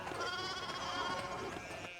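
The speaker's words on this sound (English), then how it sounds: "See, sheep blocking us there" Sheep bleat steadily across a pastoral road scene in the video game Pentiment, several animals calling close by in overlapping, wavering cries.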